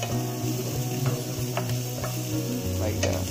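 Vegetables stir-fried on a high flame for Kolkata-style hakka chowmein, a steady close sizzle with scraping and clattering of the spatula, rhythmic knocks against the pan, and no voice.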